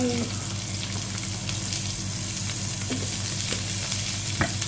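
Beef liver stir-fries with onion in a hot pan, a continuous close sizzle with occasional clinks and scrapes of stirring throughout.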